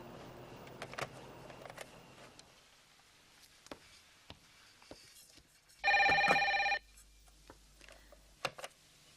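A telephone rings once, a short, bright electronic trill lasting under a second, set against a quiet room with faint clicks and small knocks before and after.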